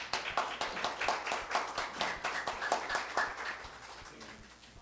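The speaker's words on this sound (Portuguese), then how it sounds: "Palmas para o Jorge." An academy session audience claps for a speaker, a moderately sized crowd whose quick, fairly rhythmic clapping is strong at first and then thins and fades toward the end.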